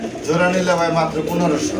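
Large domestic pigeons, including pink-beaked and pink-crested birds, coo at a pigeon market: a short, low, rolling coo heard close by, mixed with nearby voices.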